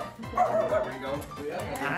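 Penny, a small new puppy, gives several quick, high yips and bow-wow barks at close range, mixed with people chatting over and around the sounds.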